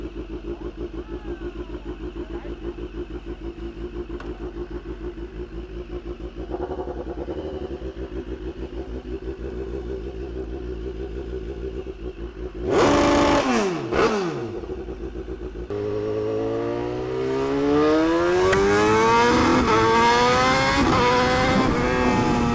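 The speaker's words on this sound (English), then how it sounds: "Last time you guys are gonna hear a straight pipe," BMW HP4 Race motorcycle with a straight pipe exhaust, loud raw engine note that holds steady, blips sharply, then revs hard with rising and falling pitch sweeps as it accelerates up close.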